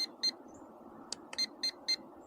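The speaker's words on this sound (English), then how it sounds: "We want the 3 beeps, meaning we're in the fastest speed." Holy Stone HS290 drone speed button sending out sharp, high electronic beeps, two quick ones then a short gap before three evenly spaced beeps, clear and close over a faint background hiss.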